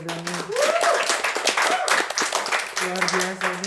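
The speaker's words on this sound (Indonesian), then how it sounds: "Tepuk tangan dulu dong." Audience applause after a vocal group's performance, a dense burst of clapping lasting a few seconds with a voice talking over it.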